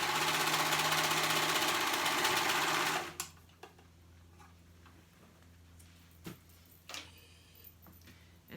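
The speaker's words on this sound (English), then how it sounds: "I'm gonna sew that top edge right there together to make it one continuous band." A sewing machine runs loud and close for about three seconds, stitching together the top edge of a fabric band, then stops, leaving a few faint clicks and handling noises.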